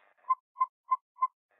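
Hug bonus sound from a video game: four short, identical electronic beeps in an even, steady rhythm about a third of a second apart, clear and alone.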